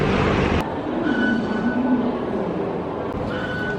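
An MRT metro train in Taiwan rumbles steadily along the track, with faint wheel squeal and clatter throughout and no talking.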